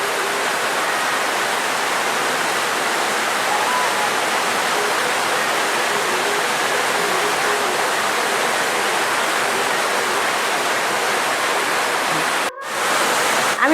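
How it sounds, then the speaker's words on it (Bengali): Langcha, sweets made from semolina, frying in hot oil over a low flame give a steady, dense sizzling hiss that runs continuously and close, with a brief break near the end. "আমি ল্যাংচাগুলোকে হালকা আঁচে ভেজে নিচ্ছি।"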